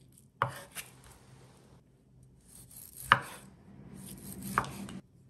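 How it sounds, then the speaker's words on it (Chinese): Knife slicing a roughly 300 g pork loin into thin slices on a cutting board, giving three sharp thumps spaced a second or more apart, each followed by a short scrape, with quiet gaps between. "先将里脊肉切成一毫米左右的片"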